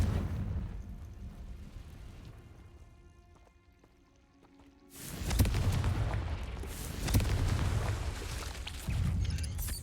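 Confringo spell blasts in Hogwarts Legacy, a quiet lull followed by a sudden loud burst and several rumbling booming impacts in quick succession.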